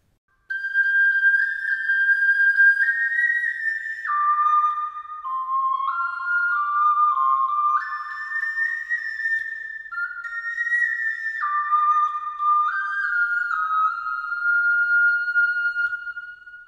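Clear ocarina melody of a Ghibli song reaching high notes in the final chorus, a single pure, whistle-like line of stepping notes played alone and close for the whole stretch after a brief silent start.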